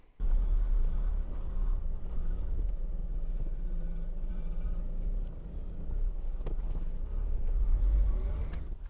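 A car drives along windy country lanes, giving a steady low engine rumble and road noise from inside the cabin, continuous and fairly loud with no talk.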